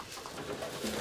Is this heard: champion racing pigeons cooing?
yes